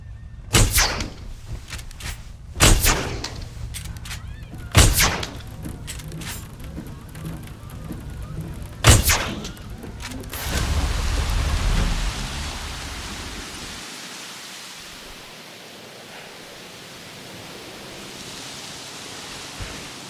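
A storm rolls through in Jurassic World Evolution: several heavy thunder booms strike at intervals, then give way to a steady wash of pouring rain that fades slowly.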